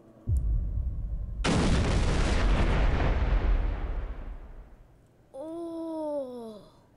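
A bomb from the Garry's Bombs 5 mod in Garry's Mod detonates with a huge sudden boom, then a long rumbling roar that slowly fades, followed by a short wavering whine at the end.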